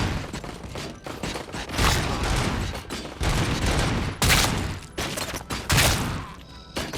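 Sustained gunfire aimed at RoboCop in the RoboCop: Rogue City video game, loud dense bursts and volleys firing almost continuously with brief gaps, close and heavy throughout.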